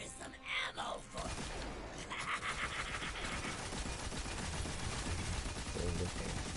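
A shotgun fires at a boss in the video game Forsaken, with sharp blasts near the start and then ongoing combat noise mixed with groaning, voice-like game sounds.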